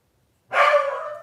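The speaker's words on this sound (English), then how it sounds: "Sorry, my dog's barking." A dog named Cleo lets out a single loud, sustained bark close by, sounding suddenly after silence and then trailing off, with no talk over it.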